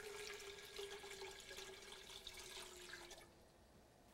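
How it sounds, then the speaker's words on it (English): Water poured steadily into a large stock pot holding meat, a rushing, splashing stream for about three seconds that cuts off abruptly, leaving quiet kitchen room tone. "I'm going to add 4 cups of water."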